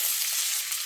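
Curry leaves sizzling loudly in hot coconut oil with mustard seeds and urad dal for cabbage thoran, a dense, steady hiss held for about a second close up.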